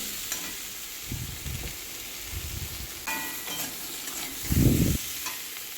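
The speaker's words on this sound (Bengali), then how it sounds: "এবার আমি মশলাটা দিয়ে বাটা মশলাটা দিয়ে দেবো দিয়ে ভালো করে কষিয়ে নেবো" Ground spice paste sizzles and fries in a pan, with a few scraping stirs and a louder burst of sizzling toward the end.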